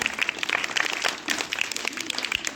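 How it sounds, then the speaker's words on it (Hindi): An audience claps at a school Republic Day event, with sustained, lively applause from a crowd that stays fairly loud and even, with a few sharper claps standing out. "अब तो ताली बजा दो यार"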